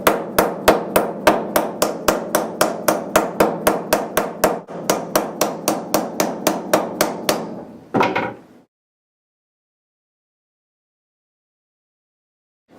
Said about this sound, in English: Make sure you hammer these down, of course.